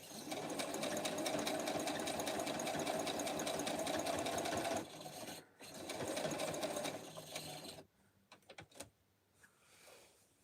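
A sewing machine stitches quilt blocks made of light, medium and dark blueprint fabric. It runs in a steady, fast whir for several seconds, pauses briefly, runs again, and then ends in a few short stops and starts.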